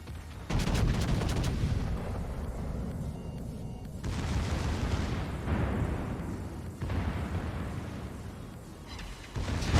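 Heavy battleship guns fire in World of Warships, from a Tier IX German battleship; loud booming salvos burst in near 0.5, 4 and 7 seconds, each trailing into a long rumbling roar with no talk.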